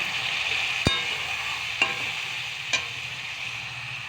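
Spice masala for a fish curry sizzles in a pan with a constant bright hiss, broken by three sharp, evenly spaced clanks of a utensil against the pan.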